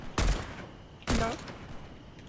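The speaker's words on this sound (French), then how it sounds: "Je vais arrêter de dépenser mes balles parce que j'en ai que 22." Two loud, close gun blasts about a second apart in the video game Fortnite, each a sharp crack with a short ringing tail, over faint game background noise.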